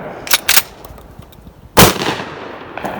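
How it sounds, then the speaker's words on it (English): Several sharp bursts from a Panzer M4 shotgun firing steel shot: two quick reports close together, then a louder blast after a pause and a faint one at the end, all outdoors with no talking. "let's see if I can get the Panzer to run the steel shot"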